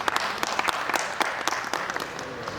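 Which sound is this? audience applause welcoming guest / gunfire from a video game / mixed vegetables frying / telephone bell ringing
audience applause welcoming guest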